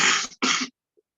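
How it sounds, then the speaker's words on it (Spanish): Two harsh coughs close together, loud and near, with no speech around them. "estoy pésimo con la tos"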